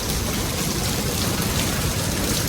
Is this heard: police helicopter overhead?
no